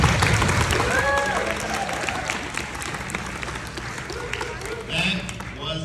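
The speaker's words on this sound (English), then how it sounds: "join me in giving a round of applause for our amazing first graders" Applause from a gathered crowd for first graders at a Chumash celebration, a loose wash of clapping with voices and a few shouts mixed in, thinning a little toward the end.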